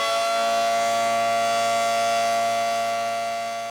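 A civil defense tornado siren sounds in a loud, sustained, steady wail with rich harmonic overtones that holds for several seconds before cutting off abruptly.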